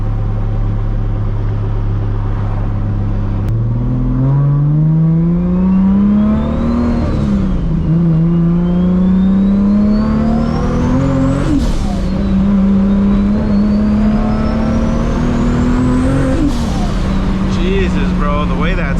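A 1000-horsepower MK4 Toyota Supra with a turbo engine accelerates hard through several gears, its pitch climbing in long sweeps with rising turbo whine. The sound is loud and close, and voices talk over the engine.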